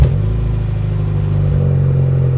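A V12 auction car, low on fuel and stuttering slightly, starts up and settles into a loud, steady, deep engine rumble close by, with no voices over it.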